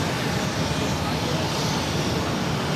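An Airbus A330-200 jet taking off at Boston Logan, bound for Rome, produces a loud, steady broadband engine roar that fills the whole moment without letting up.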